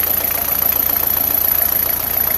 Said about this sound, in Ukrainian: Оце мій бусик так працює.